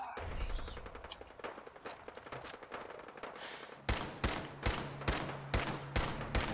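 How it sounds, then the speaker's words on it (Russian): Fallout 4 gunfire crackles in rapid bursts. A loud, evenly spaced string of sharp shots comes near the end, and heavy breathing is heard between them. "Просто выстрелы. С кем перестрелка?"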